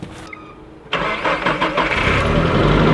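A mini bike's small engine catches at about one second and settles into a steady, loud running drone close by.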